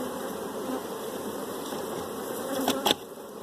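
A swarming, angry honey bee colony buzzes steadily and close, a dense continuous drone with a couple of louder individual bees passing near the end.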